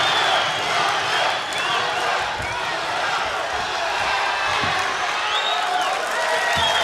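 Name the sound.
crowd cheering at a Metamoris jiu-jitsu match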